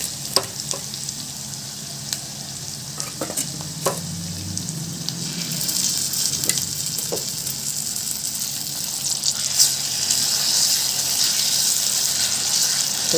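Boiled amaranth leaves go into hot oil in a pan and set off a loud, continuous sizzle, with scattered stirring clicks and a crackle that grows stronger toward the end.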